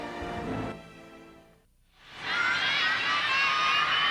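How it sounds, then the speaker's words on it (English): Young gymnastics fans scream in a competition arena at a women's championship, a brief burst of crowd noise fading to near silence before a loud, sustained high-pitched wave of shrieking and cheering takes over. "Her young fans scream out the name Dominique for MOCEANU, extremely popular."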